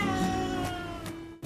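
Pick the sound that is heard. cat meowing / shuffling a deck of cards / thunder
cat meowing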